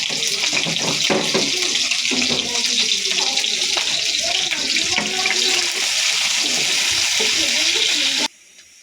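Chopped onion, green chili and garlic frying in hot oil: a steady, close sizzling crackle that runs throughout, then cuts off abruptly near the end.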